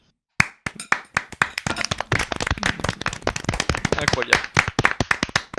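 A small group of people claps quickly and unevenly at close range, with loud overlapping hand slaps throughout and a brief spoken exclamation at the start.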